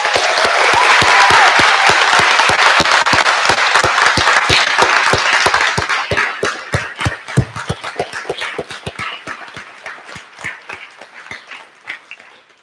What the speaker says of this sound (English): So everyone, please give a big round of applause to the one and only Paige McCluskey.